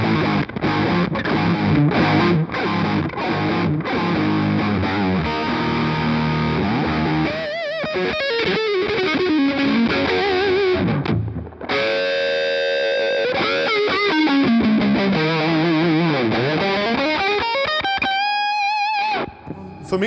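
Distorted electric guitar played through a Mooer Micro Preamp boogie-style preamp pedal, thick high-gain chugging riffs and sustained chords, then bending lead notes, loud and continuous with no talking.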